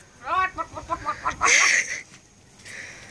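Quick rhythmic clucking from a hen, close by, during egg collecting on Noirmoutier, followed by a brief burst of higher squawking and a softer call at the end.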